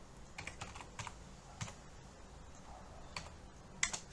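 Computer keyboard keys are pressed for a Word shortcut, a few faint, quiet clicks and taps spaced irregularly against a low room hiss.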